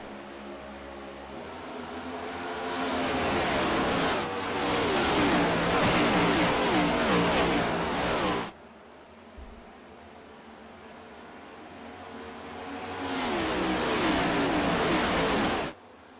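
Race cars in iRacing restart at Atlanta behind the pace vehicle, a loud roaring pack of engines building and sustained for several seconds, cutting off abruptly to a quiet lull, then surging back loud near the end.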